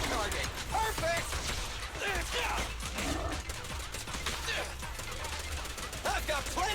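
Rapid bursts of gunfire ring out in a Zenless Zone Zero battle, dense automatic fire with scattered single shots and mechanical clacks throughout, over game action noise.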